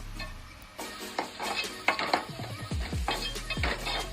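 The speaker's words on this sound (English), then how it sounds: "Just fry for a minute" Vegetables for masala oats sizzle and fry in a pan, with a spoon repeatedly scraping and clinking against the metal as they are stirred.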